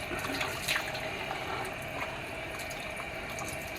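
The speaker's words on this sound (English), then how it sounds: "Okay, now I'm going to rinse this out." Running water rinsing a human hair wavy wig, a steady soft splashing flow from a tap with faint gurgling, continuous and fairly quiet, close by with no talking.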